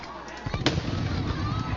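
Fireworks crackle and pop at a Kahuku vs Campbell high school football game, a sharp burst standing out over the crowd noise while a commentator talks throughout.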